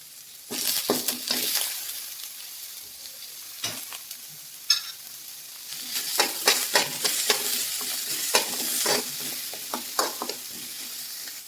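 Chopped tomato and vegetables frying in a pan for a leafy greens sambar, with bursts of crackling sizzle and repeated scraping stirs, close and fairly loud, easing between stirs.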